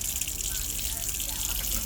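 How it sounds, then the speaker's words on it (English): Cold water runs steadily from a caravan tap fed by an electric water pump, a constant hissing gush at close range with no breaks. "You start off by bringing the cold water through"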